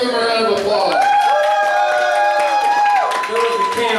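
Audience applause and cheering at a live comedy show, a crowd clapping and whooping for a few seconds, with voices and shouts mixed through the clapping.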